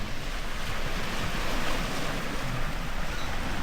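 Waves breaking on a New Zealand shoreline make a constant rushing wash, close and loud, mixed with wind noise on the microphone and no voices.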